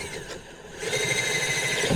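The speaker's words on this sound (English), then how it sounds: "Now I'm just going to drill one hole." Power drill boring a single hole in a plastic kiddie pool used for growing corn, a close whirring whine that starts quietly and rises into a steady grinding tone over a couple of seconds.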